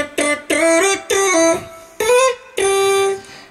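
A voice hums an imitation of a trumpet in five short phrases with gaps between them. Some notes bend, and the last one is held longest. The sound is loud and close, with no other sound behind it.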